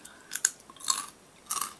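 Crunchy wasabi rice crackers being chewed at a desk taste test: three crisp, close crunching bursts spaced apart, with quiet pauses between bites.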